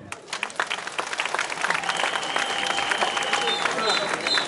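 Dense applause from a crowd at a political rally, continuous and loud, with scattered cheers and voices mixed in throughout.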